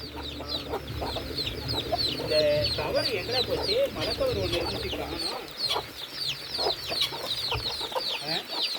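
Chickens clucking and chattering continuously nearby, a busy flock of overlapping clucks and squawks with faint talk in the background.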